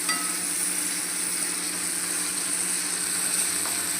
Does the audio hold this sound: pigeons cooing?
no